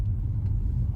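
A 2018 Nissan Maxima sets off, giving a low, steady engine and road rumble heard from inside the cabin, brief and moderately loud with no talk.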